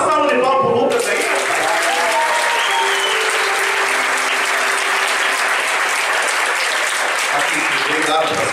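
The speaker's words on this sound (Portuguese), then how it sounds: "Dá uma salva de palmas pro Lucas aí" A congregation applauds during a church service at an Assembleia de Deus band and choir gathering, a steady wash of clapping that carries on for several seconds after a brief moment of talk at the start.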